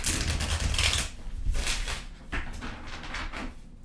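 Tarot cards shuffled by hand in repeated bursts of crisp riffling and slapping, close and fairly quiet, with short pauses between passes.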